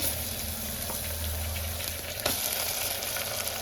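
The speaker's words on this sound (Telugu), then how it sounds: "ఇప్పుడైతే నేను దీంట్లో చికెన్ వేస్తున్నాను" Chicken frying in a pan with onions, green chili and ginger garlic paste gives a steady, even sizzle that holds for the whole stretch, with small stirring clinks and no talking.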